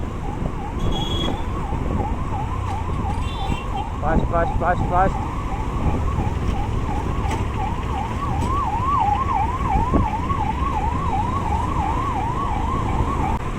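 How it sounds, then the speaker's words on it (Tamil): An ambulance siren wails in a fast, repeating up-and-down sweep as it passes on a bridge, loud over rumbling road traffic, with a brief spoken word partway through. "ஸோ நம்ம ஆம்புலன்ஸ்க்காக கொஞ்சம் வழி பண்ணிடலாம்."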